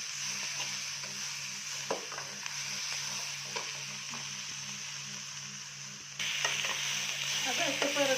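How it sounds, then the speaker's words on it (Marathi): A pan of chopped large tomato and lightly browned onion sizzles steadily while being stirred, with soft scraping strokes and a brighter hiss near the end. "तर यामध्ये 1 मोठा टमाटा चिरून घालायचा. त्याला चांगलं हलवून घ्यायचं."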